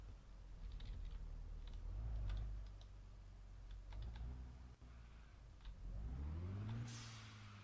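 Minibus engine in the Drive 21 simulation game revving in a few rising bursts, with clicking keyboard taps in between and a final steep climb in pitch; faint and close.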